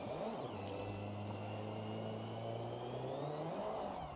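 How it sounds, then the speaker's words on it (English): An inline-six car engine in the video game Forza Horizon 6 revs steadily for a few seconds with a smooth droning tone, then rises in pitch and drops off near the end, alone without talk. "Glad the i6 engines don't sound like, yeah, no, they sound pretty good."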